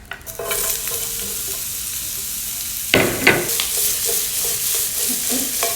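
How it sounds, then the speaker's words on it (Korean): Onions sizzle softly in hot bacon fat in a pan, with occasional stirring and scraping sounds over a steady low crackle. "베이컨 나온 기름에 양파를 구워줄 건데"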